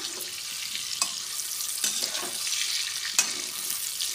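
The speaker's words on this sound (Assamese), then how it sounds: "তাৰপিছত আলুখিনি অলপ ফ্ৰাই কৰি ল'ম।" Potatoes sizzle and crackle in a pan of hot oil after jackfruit was fried in it. The frying is steady and close, with a few brief louder pops and stirring sounds.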